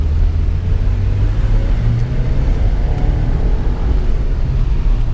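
A 1985 Porsche 944 rolls along the road, its engine and tyres giving a loud, continuous low rumble heard from inside the car, with no talk.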